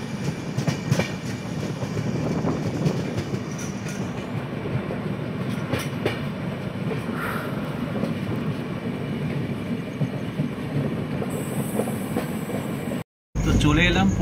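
A train rolls along the rails near Pune's outskirts at night in light drizzle, a continuous close rumble with rhythmic clickety-clack of wheels throughout and a person briefly talking over it.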